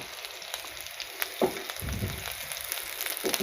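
Whole spices frying in ghee for a dal tadka give a steady close sizzle that swells into a louder crackle near the middle and holds to the end, with no talking.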